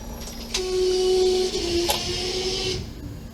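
Garbage truck passing outside, a steady mechanical whine and hum with a low drone, fairly loud and continuous for about two seconds with no talk.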